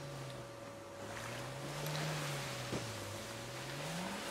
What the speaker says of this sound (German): ein Motorboot ist dafür noch gekommen